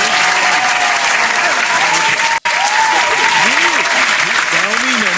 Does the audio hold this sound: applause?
yes